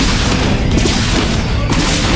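Marines and siege tanks fire in a StarCraft 2 match, a loud, dense barrage of overlapping booms and rapid gunfire with no pause.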